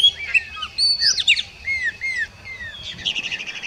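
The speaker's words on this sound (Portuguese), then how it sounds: "No início da manhã, as aves estão cantando." Wild birds sing in the countryside in early morning, with several bright chirping and whistling calls close by, overlapping at first and then giving way to a rapid trill over a quiet background.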